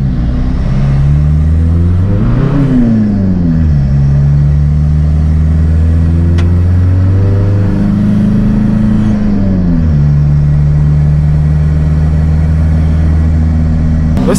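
A car engine is held at full throttle while the clutch is being broken in, droning loud and close with rising and falling revs and a few pitch swings, no talk over it.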